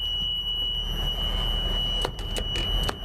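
A school bus rear emergency exit door alarm sounds a steady high-pitched electronic tone continuously, with scattered clicks and rattles from nearby handling over a low background hum.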